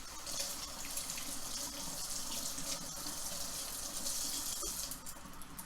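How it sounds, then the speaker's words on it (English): A running faucet pours steadily into a sink as jars are rinsed during fabric dyeing, a continuous close splashing hiss with no talk over it. "let me wash these. We'll rinse them off."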